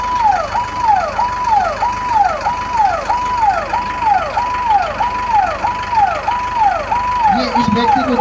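An ambulance siren wails in a regular rising-falling cycle at an industrial site after a lifting accident with a suspended load, loud and continuous over engine noise, with a brief clatter near the end.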